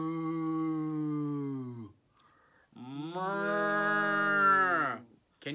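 A person imitates a cow, giving two long, drawn-out moos with a short pause between them, close and clear.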